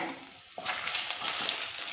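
Ginger sizzles and fries in hot coconut oil with crackled mustard seeds, a steady close hiss that jumps louder partway through, with faint stirring scrapes.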